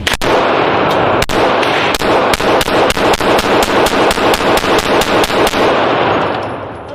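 Rapid gunfire at an indoor shooting range, a string of loud sharp shots in steady quick succession, close and dominant, with no talking over it.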